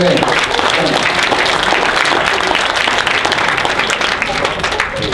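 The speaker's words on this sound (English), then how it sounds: "Can we give a round of applause?" Sustained applause from an audience during a face reading lesson, dense and steady throughout, with what may be voices mixed in.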